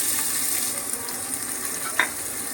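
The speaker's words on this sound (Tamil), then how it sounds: "நம்ம நறுக்கின வெங்காயத்தை இதில் ஆட் பண்ணிக்கலாம்" Steady sizzling of chopped onions frying in hot oil for chicken gravy, an even crackling hiss throughout with a brief stirring scrape near the end.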